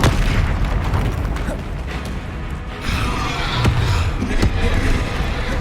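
Spell blasts from Confringo and Incendio in Hogwarts Legacy, a run of loud booming bursts and pops over continuous battle noise, with sharp hits near the middle and end.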